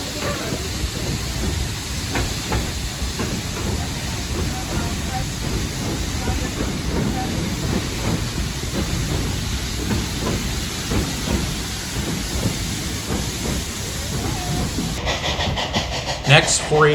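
Narrow gauge steam locomotive 488 hauling its train across the Rio Chama, a steady, loud rumble and hiss of the engine and rolling cars that continues unbroken, with a voice talking over it.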